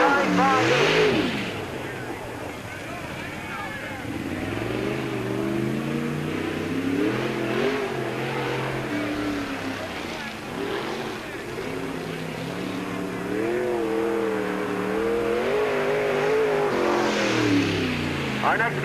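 A race car circling Peoria Speedway on a qualifying lap, its engine droning and rising and falling steadily as it goes around, with an announcer's voice running over it throughout.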